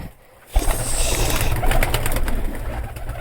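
Soft, low cooing from pigeons runs steadily throughout over a constant background hiss, close by, after a brief quiet start.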